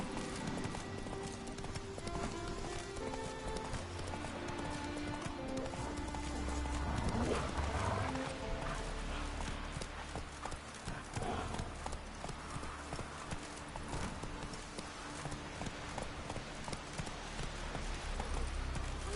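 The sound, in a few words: horse galloping in video game The Witcher 3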